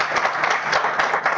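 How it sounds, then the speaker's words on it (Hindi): Audience applause at a network-marketing seminar, a dense steady wash of many hands clapping throughout, fairly loud and close, with no talk over it. "ताली बजा दो इन सबके लिए"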